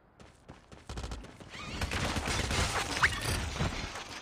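Rapid gunfire bursts in Call of Duty Mobile, a quick volley of shots growing denser and louder, with faint game ambience behind.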